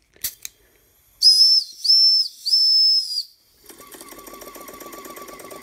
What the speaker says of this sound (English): Just screw the whistle in.